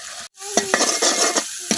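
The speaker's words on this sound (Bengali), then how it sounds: "এখন মশলা কিছুক্ষণ কষাই নেন।" Spice masala is sautéed in a pan, with a brief run of close spatula scrapes and clicks over a bright, steady sizzle, broken by a momentary drop near the start.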